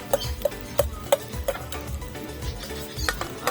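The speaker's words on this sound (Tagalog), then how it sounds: "Halo-haloin lang hanggang sa maluto." Onions being stirred in a cooking pan for nilarang, a utensil scraping and clinking in a quick, fairly regular rhythm of about five strokes, then softer scuffing over a faint sizzle; close and moderately loud, no talking.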